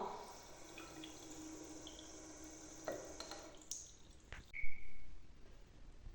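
Water runs steadily from a tap with faint clinks and a brief louder splash near the end, close by.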